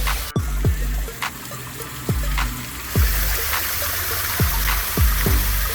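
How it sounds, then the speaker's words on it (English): Water from a pump-fed acrylic waterfall fountain spills steadily in a soft continuous trickle, with close, distinct drips and plops landing every half second or so and no voices. "That waterfall fills up with water and it spills it out"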